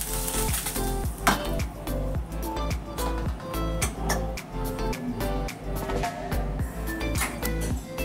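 Very hot oil is poured into coconut karanji flour dough, giving a crackling sizzle with scattered clinks and knocks of utensils against a bowl, fairly close and continuous.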